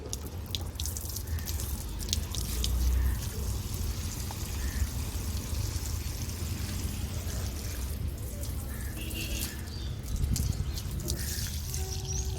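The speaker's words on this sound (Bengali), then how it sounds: "এবার দেখো আমি এদের একটু জল দেব, চেষ্টা করব গাছগুলো একটু স্নান করিয়ে করিয়ে জল দেওয়ার।" Water is poured from above onto newly planted garden plants, splashing and trickling unevenly into the soil, with a soft outdoor background and no clear talk.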